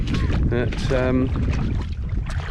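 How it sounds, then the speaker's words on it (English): Gusts of wind buffet the microphone with low rumbling bursts, while a person speaks over the noise outdoors. "Apologies for the wind, it's a little bit windy here."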